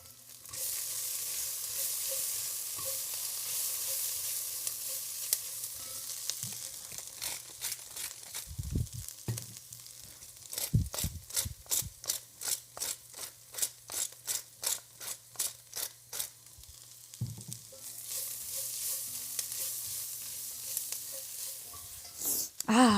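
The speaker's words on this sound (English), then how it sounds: "add in our squash, give it a quick swirl to just get it hot" Squash hitting a hot pan and sizzling loudly, then stirred with a quick run of rhythmic scraping strokes, a steady hiss underneath, close up with no talking.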